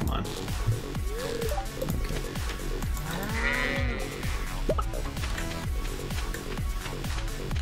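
Cows in a farming video game give a few drawn-out moos over a steady rhythmic thumping backdrop, moderately loud and close.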